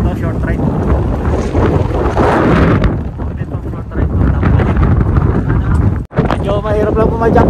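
Strong wind buffets the microphone in loud, continuous gusts, with a brief dropout near the end.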